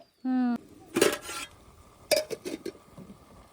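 A utensil scrapes and stirs food in a cooking pot over an outdoor tribal forest fire, in a few short rasping strokes, after a brief tonal whistle at the start.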